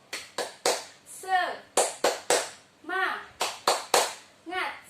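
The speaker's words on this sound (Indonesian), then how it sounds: "kita tepuk semangat dulu ya anak-anak" Children in a classroom doing a rhythmic spirit clap led by a teacher, sharp, loud claps in short patterned bursts alternating with chanted children's voices between the clap groups.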